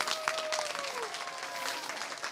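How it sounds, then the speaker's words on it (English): Applause for schoolchildren at a ribbon cutting ceremony for Enka Intermediate, a steady wash of clapping from a gathered crowd lasting a couple of seconds, with a faint tonal whistle or squeal running beneath it. "Let's give a round of applause for our kids."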